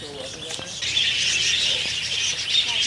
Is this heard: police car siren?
no